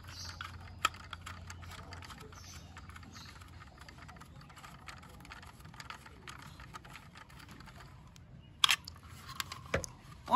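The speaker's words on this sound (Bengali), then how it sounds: "এখানে একটি স্ক্রুর প্রয়োজন, যেখানে আমি একটি স্ক্রু ড্রাইভারের সাহায্যে এখানে স্ক্রু দিয়ে টাইট করব।" A small screwdriver tightens a screw into a plastic toy CNG auto rickshaw, giving light, irregular ticking and scraping clicks close by over a quiet background, with a few sharper knocks near the end.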